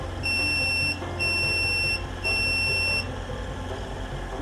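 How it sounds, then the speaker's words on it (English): Three evenly spaced high electronic chime tones, each about a second long, sounding over a low steady rumble of machinery: the improved door chimes of a Class 180 train in the video game SCR (Stepford County Railway). "The Class 180 now has improved door chimes."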